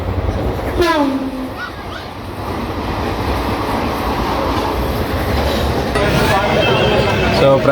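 Inside a crowded general-class coach on a long train journey from Secunderabad to Prayagraj, a steady rumbling rattle of wheels on rails continues throughout, with chatter of passengers and brief squeaky tones mixed in.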